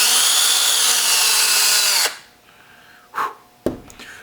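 A power drill re-drills a hole through nylon on a tricopter frame, whining loudly and steadily for about two seconds, then stopping, followed by a couple of brief handling knocks.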